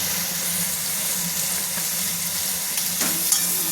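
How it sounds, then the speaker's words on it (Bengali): Boiled potatoes sautéing in a pan for aloo potoler torkari, with a continuous close sizzle and faint stirring clinks near the end. "এবার সেদ্ধ করা আলুটা দিয়ে দিতে হবে, দিয়ে ভালো করে কষাতে হবে।"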